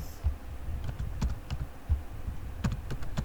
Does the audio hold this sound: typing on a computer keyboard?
yes